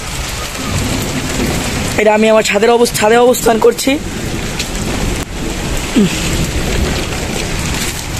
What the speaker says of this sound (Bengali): বৃষ্টি পড়ছে, আমার মোবাইলটা ক্যামেরা গুলাই যাচ্ছে।